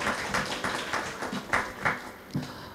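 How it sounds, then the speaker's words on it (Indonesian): Children and adults at a museum collection learning session applaud a guest speaker, giving a series of distinct, fairly rhythmic claps at a moderate distance, with no talking over them. "Tepuk tangan untuk Mas"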